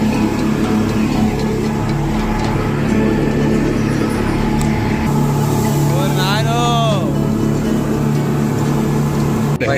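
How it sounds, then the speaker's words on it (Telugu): Five boat engines run together, making a loud, continuous low drone that stays close and steady throughout, with voices talking over it and a brief warbling tone midway. "స్టార్ట్ అయిపోయినాయి బోట్స్. 5 ఇంజన్స్ ఒకేసారి."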